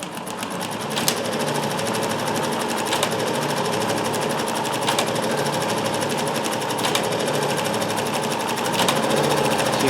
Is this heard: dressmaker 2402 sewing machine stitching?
yes